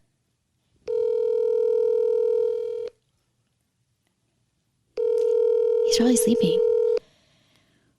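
Telephone ringing tones on a call, two long steady electronic rings separated by a pause, with a voice talking over the second ring.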